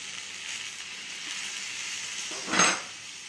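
Grated bottle gourd and garlic frying in a pan, a steady soft sizzle with a brief louder hiss burst near the end as the food is stirred or turned.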